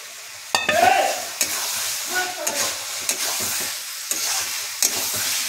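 Fried potatoes are tossed and stir-fried with spices in a sizzling pan for a fish curry, with sharp spatula knocks and scrapes at an irregular rhythm over a steady hiss.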